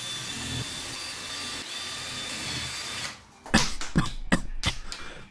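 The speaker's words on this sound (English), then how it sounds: "I better start drilling." A power drill bores holes, first as a steady whine for about three seconds, then as loud uneven bursts with crunching as the bit bites through the material. No one talks.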